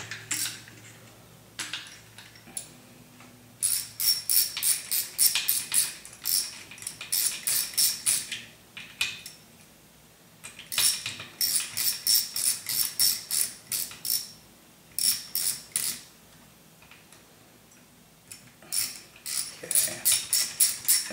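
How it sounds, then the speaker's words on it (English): Loosening a nut on an Align Trex 700N DFC RC helicopter with a ratcheting tool, repeated quick metallic ratchet clicks in bursts of several seconds separated by pauses, close and crisp. "I'm actually going to back off that nut."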